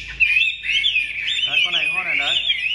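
A Chinese hwamei songbird sings near and loud, a continuous run of shrill warbling whistles and trills carrying through the whole short stretch.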